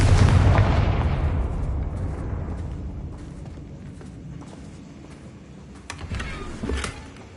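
A Confringo blasting spell explodes in Hogwarts Legacy, opening with a loud, broad boom that decays into a long rumbling tail, with a few sharper crackles and bursts near the end.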